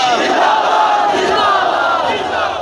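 A large crowd at a religious gathering in Uch Sharif chants a religious slogan back in unison, loud, dense and sustained for the whole stretch with no single voice standing out.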